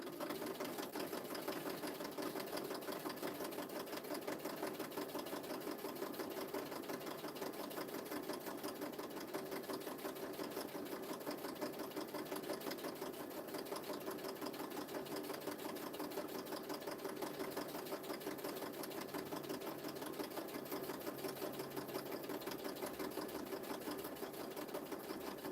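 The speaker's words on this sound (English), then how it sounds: "Should I stitch around the edge of this circle?" A sewing machine stitches around the edge of a paper circle in a papercraft cake project, a steady fast mechanical whirring with rapid needle ticking, continuous and close, with no talking.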